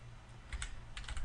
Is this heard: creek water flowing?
no